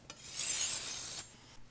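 A single hissing rasp of a thin knife blade drawn across a 600 grit sharpening stone, close and fairly quiet, lasting about a second with a faint scrape on each side.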